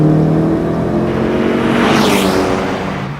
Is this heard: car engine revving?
yes